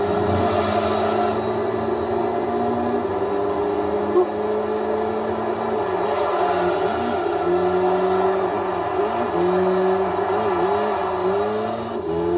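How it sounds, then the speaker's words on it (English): A Mitsubishi Lancer Evo VI GSR Tommi Makinen Edition engine in Gran Turismo 3 drones loudly and continuously, its pitch climbing and dropping through several shifts and revs, with no talk over it. "I believe the Tommi Mac edition had 312 horsepower."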